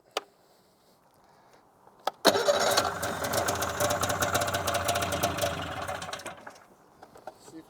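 Polaris Indy Lite snowmobile with a boggy engine, after a couple of clicks, roars into a loud, sustained, buzzing rev for about four seconds, then drops back to near silence.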